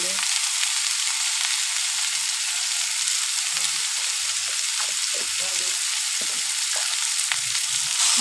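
Eggplant, potato and river fish fry in oil with salt and turmeric, giving a loud, continuous close sizzle, with soft stirring knocks and scrapes scattered underneath.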